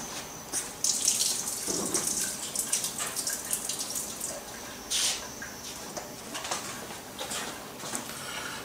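A kitchen tap runs steadily as a Canon PGI-72 ink refill clip is rinsed under it, water splashing and gurgling against the plastic and sink at close range, no talk.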